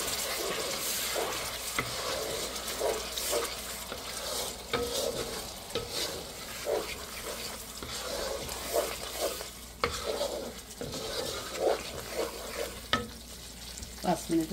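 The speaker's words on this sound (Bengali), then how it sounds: "পাঁচ মিনিটের মতো কিছু কষিয়ে নেব" Spices with a little water are stir-fried in a large wok for a wedding-style roast, giving a continuous close sizzle broken by scraping stirs and occasional clinks of the spoon.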